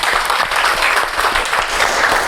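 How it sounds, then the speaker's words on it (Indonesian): A group applauds prize winners during a teacher-training session at a university in Indonesia. The lively, continuous clapping from a modest crowd lasts about two seconds. "Bagus sekali, tepuk tangan."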